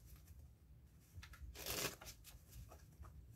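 A deck of playing cards being riffle shuffled, a soft close flutter building to one brief, brighter burst of cards riffling together, then faint handling sounds, fairly quiet.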